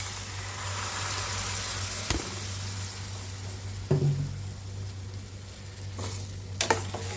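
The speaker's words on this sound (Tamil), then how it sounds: "சும்மா ஒரு பத்து செகண்டுக்கு இப்படி நல்லா கிண் கிண்டி விட்டுக்கலாம்" Masala fries in oil for a brinjal kulambu, a moderate sizzle under a steady low hum, with a few sharp spatula scrapes and knocks as it is stirred; no voices.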